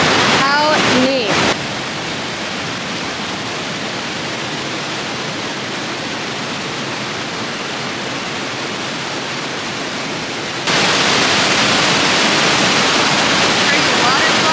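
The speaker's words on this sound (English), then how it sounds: "There's a waterfall." Near Bellano on Lake Como, a waterfall fed by glacier and snowmelt water roars as a loud, continuous rushing wash. A brief voice-like sound comes at the start, and the roar grows brighter and louder near the end.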